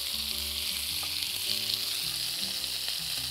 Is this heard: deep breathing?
no